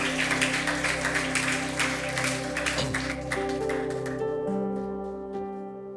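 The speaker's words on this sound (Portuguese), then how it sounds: "aplauda Jesus por isso aí" A church congregation applauds over sustained keyboard or organ chords, with the dense clapping steady for several seconds and then fading away while the held musical tones continue on their own.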